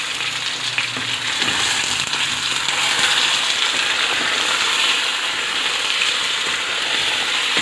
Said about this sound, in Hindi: अब चिकन को हम इसमें करेंगे फ्राई।